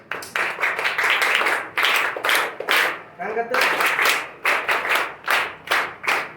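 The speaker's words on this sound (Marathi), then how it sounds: "त्यांच्यासाठी टाळ्या वाजवा." An audience at a school event claps in repeated bursts, loud rolling applause rising and falling several times, with a brief spoken question in the middle.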